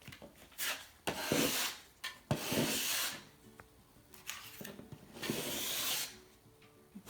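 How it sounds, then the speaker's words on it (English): Rough rasping scrapes repeat in several long strokes, close and fairly loud, like a blade dragging dried joint compound crumbs off a wall, with short pauses between. "These are going to become crumbs later, and we want to scrape those off right now."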